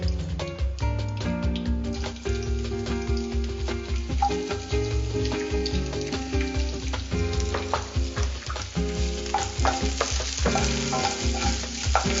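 Chopped onions sautéing in a pan, a steady crackling sizzle with scraping stirs, close and continuous throughout with no talk.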